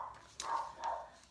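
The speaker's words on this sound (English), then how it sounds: "So, sorry about the dogs today." Dogs give two short, muffled barks about half a second apart at a moderate distance, with no voices over them.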